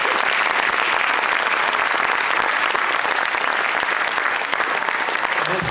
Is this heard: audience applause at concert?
yes